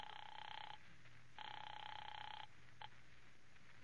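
A telephone rings as a radio comedy sound effect, two long electric bell bursts and a brief third clip, fairly faint against a quiet background.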